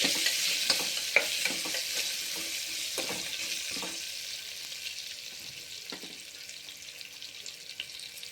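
Onions sautéing in a pan with a constant crackling sizzle and repeated scraping stirs, loud at first and easing slightly over time.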